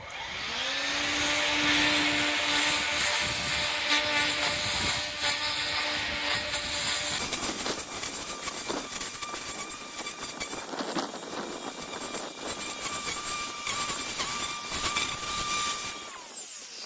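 An EGO Power+ cordless electric string trimmer whines steadily at close range as it cuts grass, its high motor tone shifting as it cuts, running nonstop throughout.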